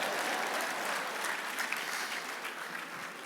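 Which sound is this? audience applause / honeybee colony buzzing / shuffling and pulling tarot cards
audience applause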